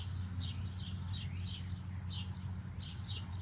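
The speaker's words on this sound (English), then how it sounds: "Those beautiful birds, they are chirping." Birds chirp in a garden: repeated faint, quick high tweets in a loose rhythm over a steady low background hum, with no one talking.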